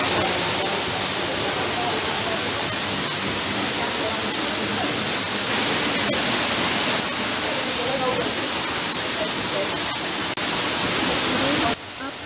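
A waterfall near a hillside cave gives a constant dense roar of falling water, loud and close, running unbroken until it cuts off abruptly near the end.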